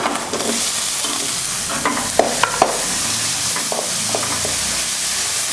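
Small shallots sautéing in a pan for village-style tiffin sambar, with a steady close sizzle and several crisp spatula scrapes and taps scattered through, no talking.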